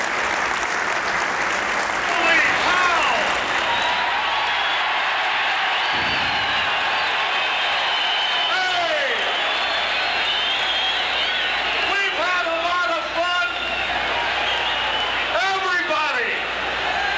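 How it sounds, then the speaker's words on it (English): A crowd applauds continuously, a dense wash of clapping that holds steady throughout, with a few cheers and whoops rising over it. "So, round of applause."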